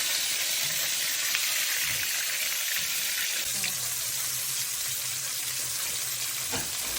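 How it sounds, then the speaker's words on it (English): Salmon fries in hot oil in a pan, giving a steady close sizzle and crackle throughout, with a few faint knocks. "as we turn the salmon, we will reduce the heat to lower, prevent any oil from splattering"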